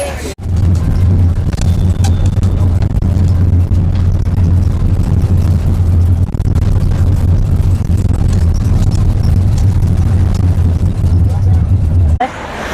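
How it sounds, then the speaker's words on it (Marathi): A public city bus pulls in at a roadside stop near a railway station in Karjat, its engine producing a steady, loud low rumble that holds throughout under street noise. "बस आली आहे."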